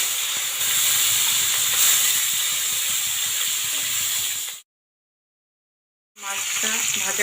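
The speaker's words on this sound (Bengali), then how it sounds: "গরম হয়ে গেছে, এবার আমি মাছটা দিয়ে দেবো।" Shing catfish frying in hot oil, giving a loud, steady sizzle and hiss that cuts out briefly before the sputtering crackle returns.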